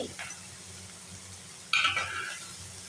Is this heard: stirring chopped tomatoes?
yes